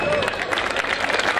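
An audience claps at a Shivaratri cultural program at the Talakondapalli Shiva temple: a short burst of dense, continuous applause from a crowd, with a voice heard over it.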